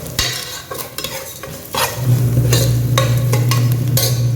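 A spoon stirs turmeric and scrapes through a hot pan of fish head curry while oil sizzles steadily underneath, close up with no talking.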